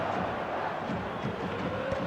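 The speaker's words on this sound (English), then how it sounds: "Certainly gave this crowd something to really cheer about." Stadium crowd in the football video game eFootball 2025, a dense, steady wash of cheering and roaring spectators filling the background at even volume.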